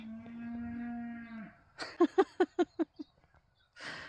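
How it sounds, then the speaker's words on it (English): Cows moo near a hazel coppicing site: one long, drawn-out low moo, then a rapid run of six short loud lowing grunts, and a brief rougher call at the end, no talking. "Fucking cows"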